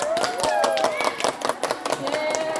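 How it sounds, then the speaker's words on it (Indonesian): A group of participants claps briefly after a cooking practice session, a quick flurry of close, sharp hand claps with overlapping voices and chatter underneath. "Tepuk tangan dulu buat semuanya"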